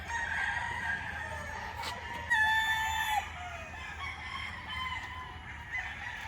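Roosters at a gamefowl farm in Tanay, Rizal crow one after another, a near crow standing out briefly in the middle with fainter crows and clucking around it, with no talking.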